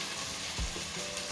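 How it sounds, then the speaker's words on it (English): Asparagus simmers in stock in a pot, giving a steady soft sizzle and bubbling hiss with a couple of low clunks, close and quiet with no talking. "Okay, our asparagus, just let it simmer,"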